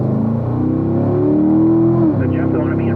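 A ceramic gray 2018 C7 Stingray Corvette pulls away on the Spring Mountain race track, its engine note climbing steadily with a gear change, loud and close from inside the car with a voice over the top.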